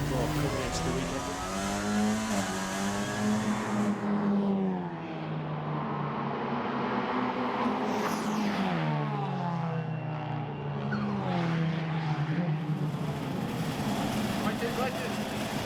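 A race car engine at the Spa circuit screams close up, rising through the gears and then dropping sharply on downshifts, and it keeps revving and falling throughout the run.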